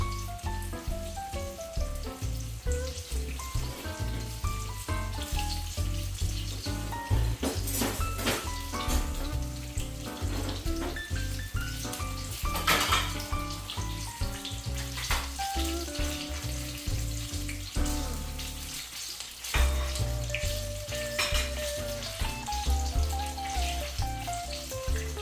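Chicken fries in a pan with a steady, dense sizzle and crackle that carries on without a break, close and fairly loud, with no voices over it.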